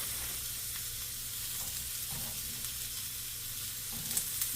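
Onion frying on a grill beside a seitan burger gives a steady, even sizzle with a low background hum and a few faint scrapes near the end.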